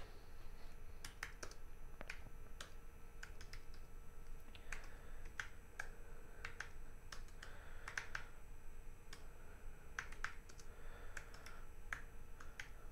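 Quiet typing on a computer keyboard at a command line, irregular sharp key clicks in short runs and pauses, close and faint with no talking.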